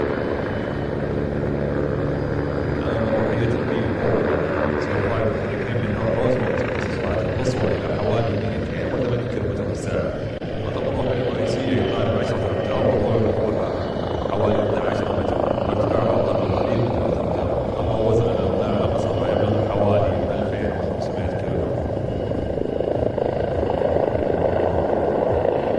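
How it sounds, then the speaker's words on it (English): A Bölkow BO105 helicopter flies at a general aviation airshow in Saudi Arabia, its steady rotor and turbine roar carrying at moderate distance for the whole span while a commentator talks over it. "Let's sit back and continue to watch what this Bocop BO105 helicopter can do."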